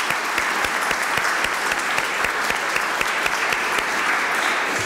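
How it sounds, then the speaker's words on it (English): Crowd applause at the opening of Frogtown Square in Saint Paul, a steady, fairly loud patter of many hands clapping at close range with sharp individual claps standing out, no talk over it. "give them a round of applause"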